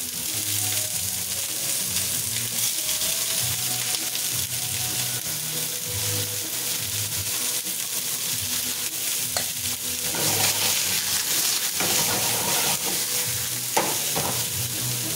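Oriental beef and vegetables, including Chinese cabbage, stir-fried in a pan, giving a loud, steady sizzle with scraping stirs throughout and sharper hissing bursts late on.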